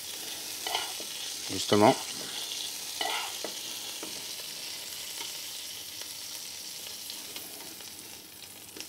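Shrimp sear and sizzle steadily in olive oil or butter in a pan, with a few stirring scrapes early on; a voice speaks briefly.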